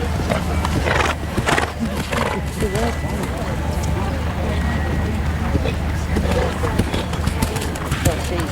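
A horse canters at an eventing competition, its hoofbeats thudding under steady outdoor crowd noise and voices, with a dense, busy background throughout.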